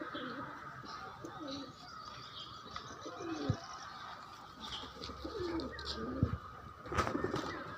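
Pigeons in a loft in Howrah coo repeatedly in low throaty bursts over a steady background hum, with occasional chirps and a sharp click near the end.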